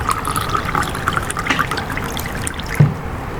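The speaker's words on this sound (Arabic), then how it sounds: "ناخد بق ميه كده" Water trickles and dribbles in a soft, continuous stream as a sip is taken, with a brief louder gulp near the end, close and quiet.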